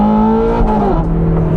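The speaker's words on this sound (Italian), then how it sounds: "Adesso proviamo a fare questo tornantino, prima marcia, vediamo di esagerare sul gas." A Ferrari 430 Scuderia at full throttle in first gear through a tight hairpin, its engine wailing loud and close in one steady, high-pitched rising howl that dips slightly near the end.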